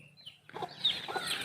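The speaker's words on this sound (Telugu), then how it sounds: "బుజ్జమ్మ ఏంట్రా ఈ కోళ్ళు?" Chickens and chicks at a rural grandmother's house cluck in a brief, soft burst, fairly near and alone, with no voices over them.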